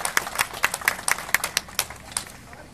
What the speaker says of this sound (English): Big Idaho round of applause for Eric Parker,